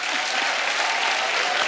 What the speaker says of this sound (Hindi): पहले तो इसी बात पे तालियां बनती हैं।